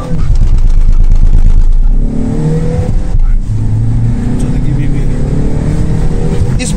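Kia Seltos and Hyundai Creta cars accelerating side by side in a drag race, a loud, steady engine roar with shifting harmonic tones over the full run, with people talking over it.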